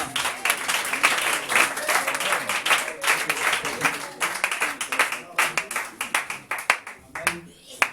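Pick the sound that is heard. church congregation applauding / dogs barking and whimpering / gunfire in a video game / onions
church congregation applauding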